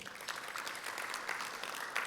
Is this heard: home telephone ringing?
no